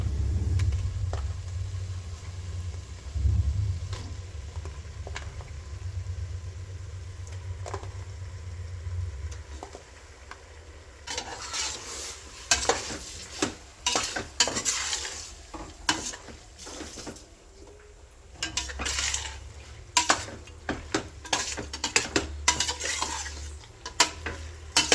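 Washed mutton frying in hot oil in a pot for hotel-style biryani, with a low sizzle early on, then repeated metal spoon scrapes and clanks against the pot as it is stirred, close and busy.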